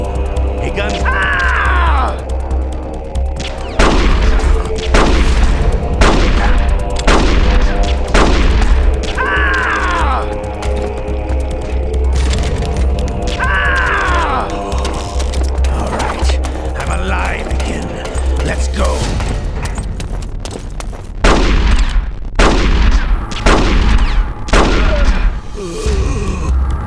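Revolver gunshots booming repeatedly in Metal Gear Solid: The Twin Snakes, sharp reports spaced irregularly over a low droning hum, with game dialogue voices speaking between shots.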